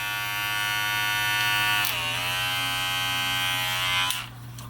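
A Red Pro hair clipper motor buzzes steadily and close, its pitch wavering and dipping midway before cutting off near the end.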